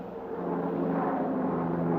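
An amphibian airplane flies over a bay, its engine giving a steady, fairly loud droning hum that holds even throughout, with no voices.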